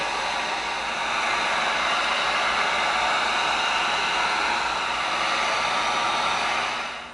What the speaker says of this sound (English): now before we glue, we heat seal